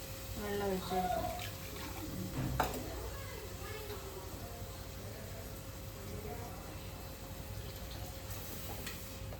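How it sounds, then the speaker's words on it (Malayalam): Water pours into a cooking pan of curry with ground spice paste, a steady splashing rush that is strongest at first and then settles into a low continuous hiss, with faint kitchen noise around it. "വെള്ളം ഒഴിച്ച് കൊടുക്കാം"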